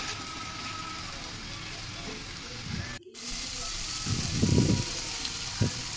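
Chopped tomato and salt sauté in a pan for a sea crab curry, a steady close sizzle with a few louder bursts where the mixture is stirred.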